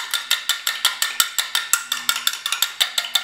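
A fork beats eggs in a regular measuring cup, giving a quick, steady run of sharp clinks and taps, roughly six per second, close and fairly loud with no voices.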